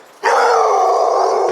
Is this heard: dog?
yes